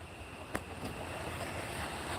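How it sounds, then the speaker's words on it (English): Steady outdoor wind rushing across the microphone in the open on a farm with chickens and goats, a constant broadband roar with a couple of faint knocks early on. "Out in the open, it's windy as can be."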